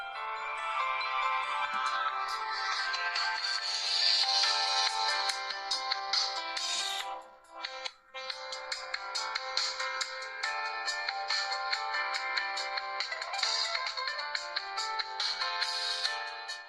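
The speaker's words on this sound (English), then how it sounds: "Now moving into a quick YouTube video playback and what the sound quality is like." Tinny YouTube playback through the small built-in speaker of a Luoran M4Pro Android MP3 player: bright, thin, continuous music-like sound lacking bass, with a brief dip midway.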